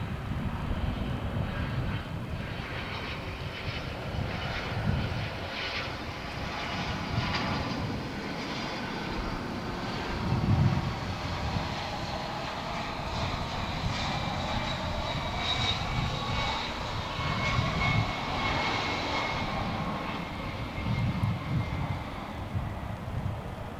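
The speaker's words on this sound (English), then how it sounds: "Here comes the A300." An Airbus A300 jet airliner passes at Dallas/Fort Worth Airport after dark, its steady engine roar loud and sustained, with a broad low rumble and a whine that swells and shifts as it goes by.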